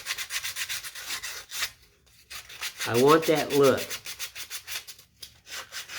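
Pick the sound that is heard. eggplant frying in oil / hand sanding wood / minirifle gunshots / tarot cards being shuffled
hand sanding wood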